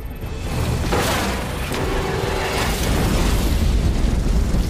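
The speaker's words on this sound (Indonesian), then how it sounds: "Kolonel segera memerintahkan untuk menghujani tim pemberontak dengan tembakan drone" A loud, continuous roar of drone-strike gunfire and explosions, heavy and dense throughout, with no clear pauses between impacts.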